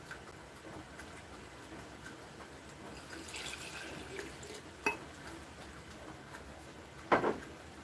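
Water is poured into a measuring cup while a spice cake mix is made in a home kitchen: a faint, soft trickle over low room noise, with a brief louder splash near the end.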